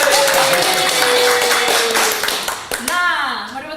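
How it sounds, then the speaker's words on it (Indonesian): Audience clapping at a singing class session, a brisk burst of many hands that fades out within about three seconds, followed by a voice talking over the tail. "Tepuk tangan lagi dong."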